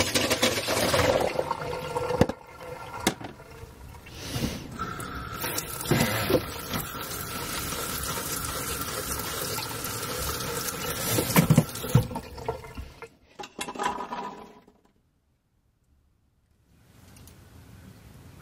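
Tap water runs steadily over soaked dried beans being rinsed and drained for a vegan Instant Pot recipe, a continuous close splashing that stops abruptly near the end, leaving brief quiet before faint handling noise returns.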